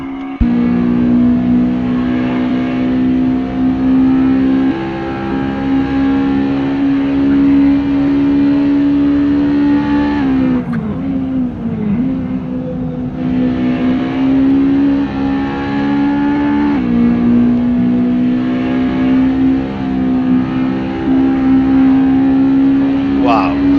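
A Spoon Honda Integra Type-R DC2 race car laps Sentul International Circuit in Indonesia with a loud, sustained high-revving engine drone, a brief dip in pitch mid-lap as it lifts and shifts, then full power again.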